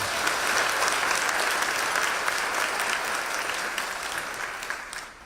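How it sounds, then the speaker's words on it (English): A conference audience applauds its first speaker at an event unveiling a Washington, DC tourism strategy. The clapping is steady and dense from many hands, holding evenly for several seconds before tapering off at the end. "So round of applause for our first speaker."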